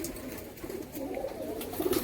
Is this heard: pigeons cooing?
yes